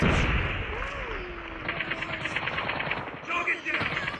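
Rapid gunfire rattles through a busy shooter video game match, dense bursts mixed with a sweeping tonal effect, while a voice talks over the action.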